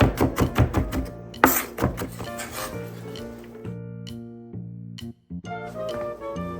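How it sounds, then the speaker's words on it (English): A knife works through ginger and garlic on a cutting board in a home kitchen, a quick run of close, crisp chopping taps followed by slower scattered cuts and a brief pause. "Next, slice the ginger and mince the garlic."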